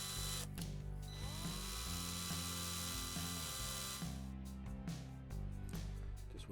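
A small drill bores 1.5mm holes through the die-cast posts of a 1971 Lesney Matchbox Superfast Mercury Police Car. The motor whines steadily and its pitch shifts as the bit bites, with a few clicks and knocks near the end.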